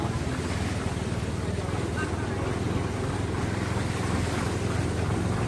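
Rushing floodwater in a village makes a steady, loud broadband roar close by, mixed with wind noise on the microphone, while a voice is faintly present underneath.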